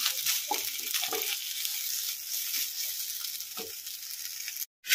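Onion, ginger, chili, tomato and potato stir-frying in oil in a wok, a steady close sizzle with occasional stirring scrapes, and a brief break near the end.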